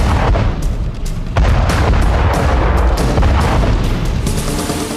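A bomb blast tears through a hotel restaurant, heard as a loud, sustained explosive roar with repeated heavy booms and crackling bursts filling about five seconds, with no voices.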